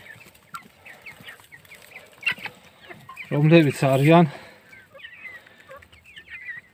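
Ordinary village hybrid chicks cluck briefly and fairly loudly in the middle, with someone talking before and after over faint farmyard background.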